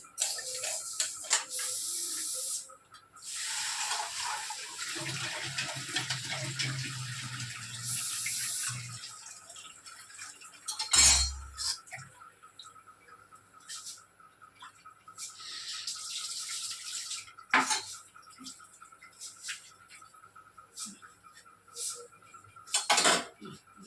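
Lentils (dal) rinsed in a metal pot with water: close, fairly loud clattering of pot and utensils with scraping and intermittent splashy rustling, plus a few sharp knocks, with no one speaking.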